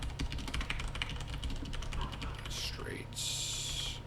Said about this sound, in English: I type that in here.